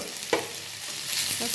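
Onions sautéing in a pan, a close continuous sizzle with a single scrape of a spoon stirring and a softer stir near the end.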